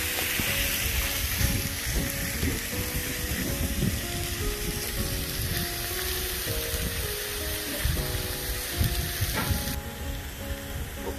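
About a pound of precooked roast beef sizzles loudly on a Blackstone griddle, a dense continuous crackle with bursts of spattering throughout; there is no talking.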